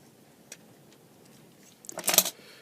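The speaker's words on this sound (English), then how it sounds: "I can hear it crunching through layers now." Knife blade crunching through the layered plastic casing of a new super-efficient 2016 LED lamp, a short close burst of brittle cracking after near silence.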